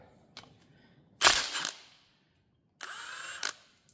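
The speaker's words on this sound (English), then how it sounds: "You're going to want to use an impact because it's going to make it easier." An impact wrench fitted with a 5/8 socket, used to remove the injector assembly of a Sunfire radiant heater, fires two short, harsh bursts close by, each about half a second long, separated by silence.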